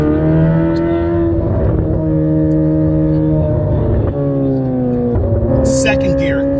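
A Corvette C8 Z06 with an AWE catback exhaust accelerates hard through the gears, its loud engine tone climbing steadily and dropping at each upshift, with someone talking over it.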